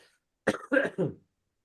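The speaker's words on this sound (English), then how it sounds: "Still got a bit of a cough." A short burst of three coughs in quick succession, fairly close, then silence.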